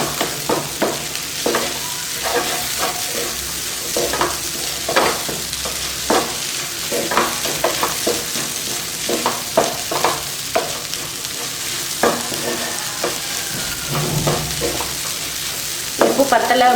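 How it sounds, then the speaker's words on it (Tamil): Egg and vegetable podimas sizzles in a frying pan while a spatula stirs it, giving repeated scraping knocks over a steady frying hiss that runs throughout. "இப்படி இப்படி கிண்டிக்கிட்டே இருந்தால் தான் முட்டை வந்து காய் கூட நல்லா கலந்து குட்டி குட்டியாக இருக்கும் முட்டை."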